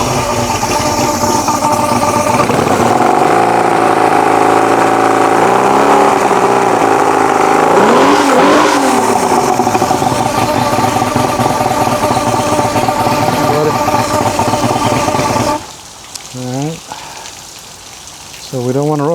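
A 40-year-old Mercury 150HP Black Max outboard engine runs loud and steady with a dense harmonic drone, revving up and down around the middle before the sound changes sharply near the end.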